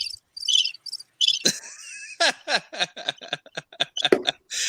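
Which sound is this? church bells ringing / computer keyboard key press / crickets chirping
crickets chirping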